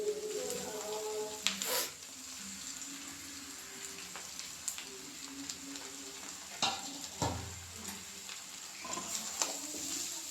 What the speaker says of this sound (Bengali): তো এবার আমি চাউমিনটা দিয়ে দিচ্ছি